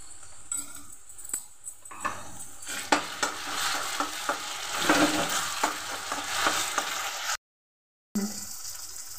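Ginger garlic paste sizzling and frying with browned onions in a hot pan, with a steady crackle and repeated scraping taps of a spoon stirring, close by and no talking.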